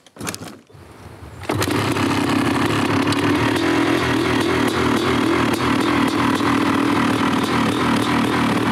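A BMW M3 E36 engine cranks and fires up from cold, settling into a loud, steady, rough idle that drones on close by in open fields.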